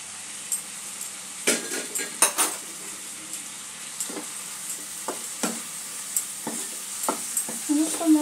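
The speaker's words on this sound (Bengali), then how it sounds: "সমস্ত মশলাগুলো ভালো করে মিক্স করে আরও 2-3 মিনিট আমি ঢাকা দিয়ে সেদ্ধ করে নেব।" Ginger-garlic paste and spices being stirred in a pan for a katla fish curry with winter vegetables: a soft simmering sizzle under repeated scraping and clinking of a utensil against the metal, irregular and close.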